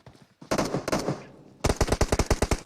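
Bursts of automatic gunfire in a battle royale video game, a short spray followed by a rapid, loud string of evenly spaced shots, close and punchy with no talk over it.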